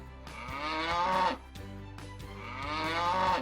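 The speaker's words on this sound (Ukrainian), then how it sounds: "Молодці, це корова." Two long, loud cow moos, one after another, each a drawn-out lowing call with a short pause between them.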